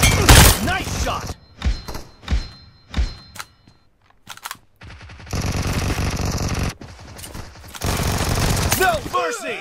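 Gunfire in BGMI/PUBG Mobile during a team match at Arena Hangar: loud bursts of rapid shots and thumping impacts in clustered volleys, with spoken game announcements over the action.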